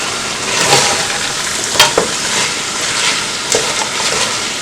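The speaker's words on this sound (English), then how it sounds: "I'm going to keep on stirring for the next" Lamb coconut curry simmering and sizzling in a pan while being stirred, soft bubbling under occasional scrapes and knocks of a utensil against the pan, close and moderately loud.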